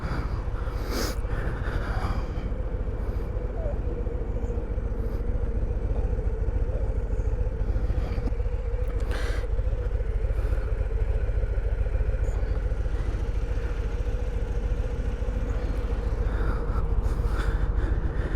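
A 2022 Harley-Davidson Road Glide ST on a demo ride, its engine rumbling loud and steady throughout with a deep, continuous throb, wind noise and occasional clatter, heard close from the rider's position.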